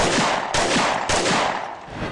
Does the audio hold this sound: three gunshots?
yes